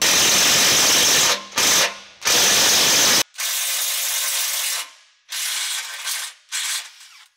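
A step-up drill bit widens a hole in metal to 11/16 inch while fitting rock sliders on a 2023 third-generation Toyota Sequoia. Several loud, gritty bursts of cutting and grinding come close up, with short pauses between them.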